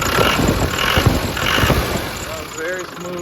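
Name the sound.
1997 Land Rover Defender 110 300Tdi engine running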